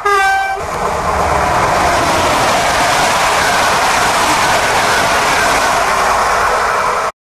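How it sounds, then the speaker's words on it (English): A passing train opens with a brief blast of its horn, then a loud, steady rumble and rattle of rail cars continues before it cuts off abruptly. "Train."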